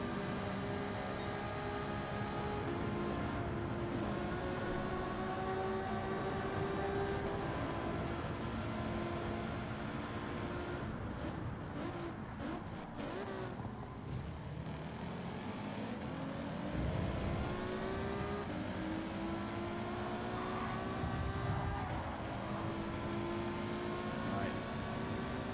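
Subaru WRX race car engine in Gran Turismo 7 pulls away, a steady loud droning roar with rising and falling harmonic pitch as it revs through gears, continuous throughout under occasional talk.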